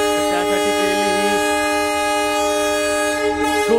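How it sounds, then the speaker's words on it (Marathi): A MEMU electric passenger train on the Diva–Roha route gives a loud, steady, tonal horn-like whine that holds for the whole stretch over a constant rumbling background. "ट्रेनचा आवाज येता"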